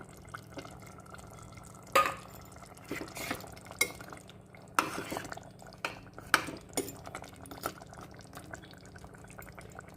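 Prawns going into a simmering curry masala in a pan for a bottle gourd prawn curry, giving a soft sizzle and bubbling with several clinks and scrapes of a spoon against the pan, close and fairly quiet.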